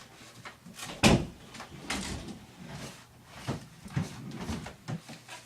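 Desk drawers and a closet are opened one after another during a search, with a sharp loud knock near the start and several softer clunks and slides following, close by and without speech.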